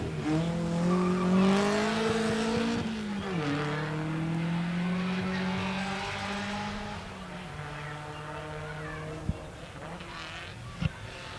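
A vintage sports car accelerates hard out of a wet corner at Wiscombe Park hillclimb, its engine note rising loudly through the gears and then fading into the distance as it climbs away, with a couple of sharp knocks near the end.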